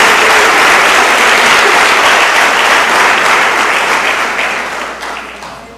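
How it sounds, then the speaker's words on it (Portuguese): A church congregation bursts into loud, dense applause, sustained clapping filling the room and slowly fading toward the end. "Dê uma salva de palmas a Jesus."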